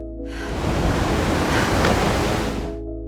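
Ocean waves wash onto the seashore in a loud, continuous rush of surf that swells and then fades away, with no voices.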